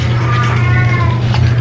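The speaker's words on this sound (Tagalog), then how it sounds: "umiiyak ang pusa" A cat cries out in one drawn-out, wavering meow, close and loud over a steady low hum.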